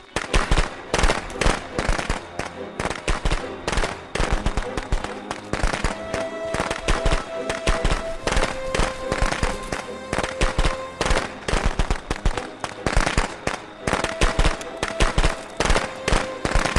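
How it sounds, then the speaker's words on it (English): Rapid bursts of fireworks crackle and pop continuously inside the horror video game Friday the 13th, dense and loud throughout with brief tonal whistles rising over the barrage. "Look at my fireworks."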